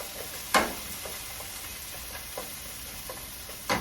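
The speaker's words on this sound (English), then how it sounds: "Now you're going to add in 3 cups of hash browns or Orion's potatoes." Hash browns sizzle quietly in a pan over medium heat, a soft continuous frying hiss broken by a few sharper clicks and scrapes.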